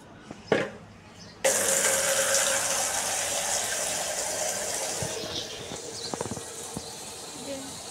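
After a short knock, a steady rush of water pours out continuously onto plants being watered, fairly close, fading slightly toward the end with a few light knocks.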